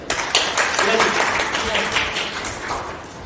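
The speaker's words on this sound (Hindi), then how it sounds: "एक बार जोरदार तालियां बजा दें।" An audience at a domestic women workers' union election meeting applauding together, dense sustained clapping at moderate volume with voices mixed in.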